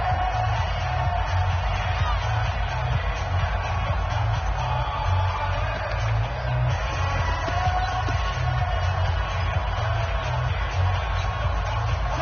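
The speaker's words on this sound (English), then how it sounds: "The crowd here in the Dome making things difficult." Stadium crowd noise in a Madden 20 football game, a Saints home game in the Dome: a dense, steady roar of the crowd with faint cheers, continuous for about twelve seconds without commentary.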